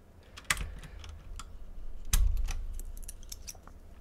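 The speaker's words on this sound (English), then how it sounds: "this thing is outfitted with Cherry MX Clear switches" Keys tapped on a mechanical keyboard fitted with Cherry MX Clear tactile, non-clicky switches, in scattered close-up clacks with two louder, heavier presses amid lighter taps.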